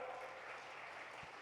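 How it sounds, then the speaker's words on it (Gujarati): Audience applause at a Hindu religious discourse (katha) in Rishikesh, a steady, continuous patter of many hands clapping that is fairly faint and carries on for the whole stretch without talk. "આ હરિભક્તોને બધાને તાળીઓથી વધાવો."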